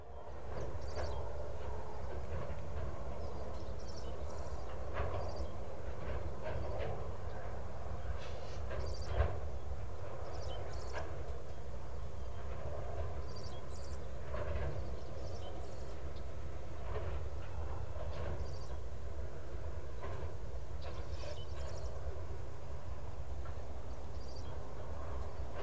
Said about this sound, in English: the former BNSF SD-35 works hard to pull the long train through the Mississippi